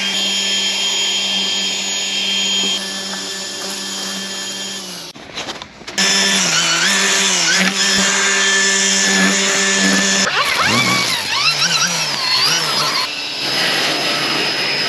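A Dewalt 60V string trimmer fitted with an upgraded Husqvarna T35 head whines at high speed, briefly cuts out, then revs back up and cuts with shifting pitch, loud and close.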